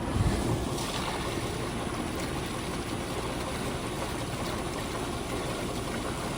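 A pool filter being backwashed gives a steady, rushing flow of water, fairly faint and continuous, with no voices.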